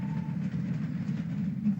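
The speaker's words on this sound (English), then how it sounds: "This train is made up of high-capacity hopper wagons, a type which the North Eastern Railway pioneered." Steam locomotive of the North Eastern Railway hauling a train of high-capacity hopper wagons, a steady low rumble of rolling wagons with a brief faint whistle tone at the start, continuous and moderately distant, no voices.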